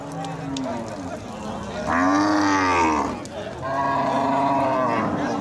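A crossbred cow at a cattle market moos twice in long, loud, drawn-out calls close by, with a low bellow rising and falling, and faint background noise between them.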